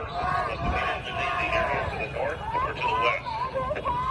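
A protest crowd riots, its shouting and agitated babble coming in a dense, continuous wash with overlapping raised voices and yelled calls close by.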